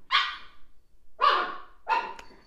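Puppy barking three times, short high yaps spaced about a second apart, close and clear with nothing else around them.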